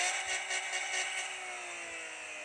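A car engine in a video game gives a brief, fairly faint whining drone whose pitch slowly sinks as it winds down, with no voices.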